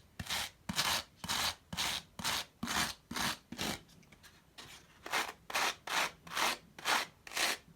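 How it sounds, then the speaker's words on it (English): A wire brush scrapes over a Salatex surface on a model railway layout, roughing it up in a brisk regular rhythm of about fifteen raspy strokes with a brief pause partway, close and alone. "I'm then using a wire brush and scraping that across the Salatex, and that really starts roughing it up"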